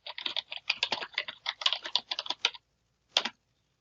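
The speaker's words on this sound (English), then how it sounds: "you can type your keywords into the search bar" Keywords typed on a computer keyboard into a library website search bar, a rapid close run of light key clicks for about two and a half seconds, then a pause and one final keystroke.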